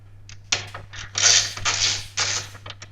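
Screws being turned out of a PC case's front fan filter, giving a few close creaking, scraping turns with short pauses over a low steady hum.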